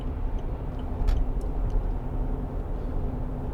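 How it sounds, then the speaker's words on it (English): A 2.7 TD V6 diesel engine in a 2008 Land Rover Discovery 3 HSE idles with a low, steady rumble, joined by a few faint ticks and clicks, with no talk. "So nice big engine, nice big diesel engine, hardly working."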